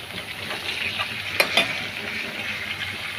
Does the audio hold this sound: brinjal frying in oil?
yes